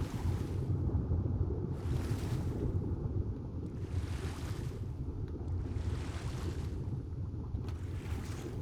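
Water washes and surges in the video game ARK, a soft continuous wash of waves rising and falling in slow swells with a breezy hiss, no talk.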